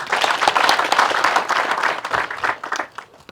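An audience claps in applause for returning Tanzanian army soldiers at a homecoming ceremony, a lively burst of many hands that thins out and fades near the end.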